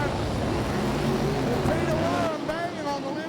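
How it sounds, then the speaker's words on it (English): Super sedan race car engine at Gympie Speedway, a loud continuous roar that rises in pitch near the end as the car accelerates, with crowd and track noise around it. "Listen to the car."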